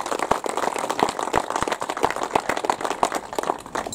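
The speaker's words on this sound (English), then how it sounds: "So maybe a round of applause for Jimmy Morris," A small crowd at an outdoor plaque unveiling in a park claps for Jimmy Morris, a brisk, steady round of applause close by without talk.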